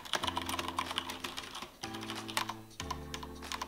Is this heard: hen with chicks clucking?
no